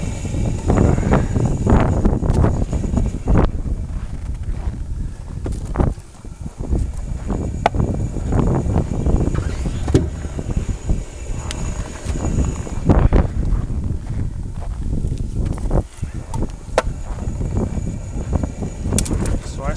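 Cold wind at sundown during a Wisconsin polar vortex at -38, buffeting the microphone in uneven loud gusts and rumbles, with occasional rustling throughout.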